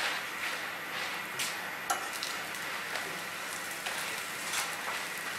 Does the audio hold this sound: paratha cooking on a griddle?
yes